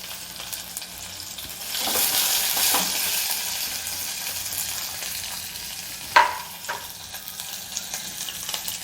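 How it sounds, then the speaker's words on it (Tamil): Onions and tomato sauté in a hot pan for a sothi coconut-milk curry, a continuous sizzle that swells for a few seconds, broken by one sharp utensil knock midway and lighter scraping after. "இப்போ நான் வெங்காயம் சேர்த்துக்கிறேன். வெங்காயம் நல்லா வதங்கட்டும்."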